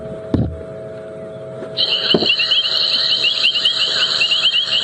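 Painted reed frogs call in a steady, dense chorus of high, insect-like chirps, starting partway through and continuing to the end. A couple of sharp knocks come early, and the calls are heard from an airstrip on a Djuma Game Reserve evening safari drive.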